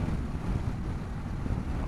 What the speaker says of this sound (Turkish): Sağlam bir rüzgar geliyor.